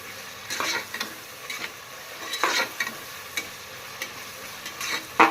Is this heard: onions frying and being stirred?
yes